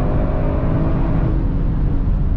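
An Audi RS6 Performance with ceramic brakes accelerating on the autobahn, a loud, steady engine and road roar heard from inside the car, unbroken and without talk.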